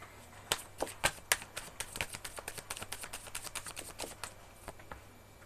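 Tarot cards being shuffled by hand, a run of crisp close flicks and riffling snaps at an uneven rhythm, quiet over a faint steady hum.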